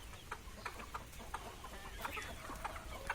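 Several hens cluck in short, scattered bursts on a village homestead, faint and some distance away over a low background hum, with no talking.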